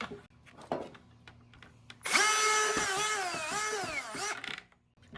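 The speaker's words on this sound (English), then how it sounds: "I'm finished drilling all the holes in the DIY worm bin." A power drill whirs in one sustained, high-pitched burst of about two seconds, close by, drilling holes in a plastic bucket for a worm bin, preceded by scattered light clicks and taps.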